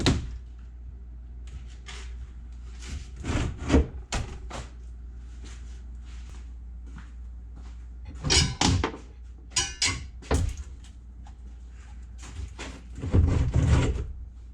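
Doors coming off a 1997 Argo Conquest amphibious vehicle: scattered clunks, rattles and knocks of panels and hardware, with bursts of louder handling noise, over a steady low hum.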